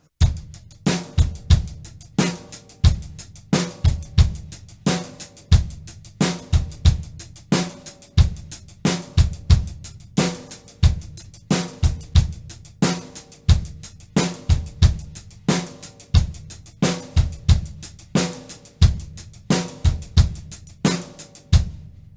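Drum kit plays a steady groove of sixteenth-note paradiddle strokes on the hands with bass drum hits, loud, close and evenly repeating, with no voices.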